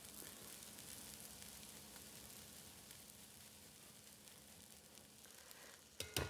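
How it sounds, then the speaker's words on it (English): Garlic grated on the small side of a grater into a pan of browned, golden vegetables, a steady close sizzle and hiss that fades slightly, ending with a couple of sharp clatters. "I'm going to use the small side of my grater to grate some garlic in."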